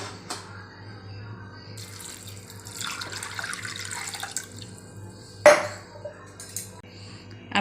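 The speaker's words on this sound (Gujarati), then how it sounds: "આપણી દાળની ઉપર પાણી આવે ત્યાં સુધી આપણે પાણી લેવાનું છે" Water pours into a pressure cooker over chana dal, a close, steady trickle and splash over a low background hum, ending with a sharper splash and a few drips.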